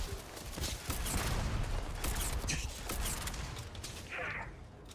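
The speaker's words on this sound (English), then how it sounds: "Who's shooting me?" Gunfire during a firefight in the space game Starfield, a dense, fairly quiet clatter of shots and mechanical clanks running steadily under the game's other sound effects.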